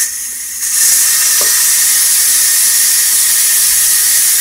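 Loud continuous steam hiss from a Ninja Foodi pressure cooker quick release, starting abruptly after a quieter moment and then holding steady at full strength to the end.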